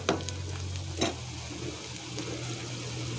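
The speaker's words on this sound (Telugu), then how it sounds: "ఇప్పుడు అల్లం వెల్లుల్లి పేస్ట్ వేసుకుంటాం." Ginger garlic paste sizzles with softened onions in a pan for goat brain curry, a constant hiss with two quick scraping stirs near the start, no speech.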